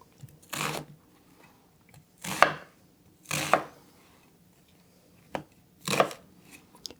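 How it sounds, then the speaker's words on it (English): Rough knife chopping of falafel ingredients, onion among them, on a board: five or six separate heavy chops spaced about a second apart, close and clear with quiet between them. "I'm going to chop it roughly"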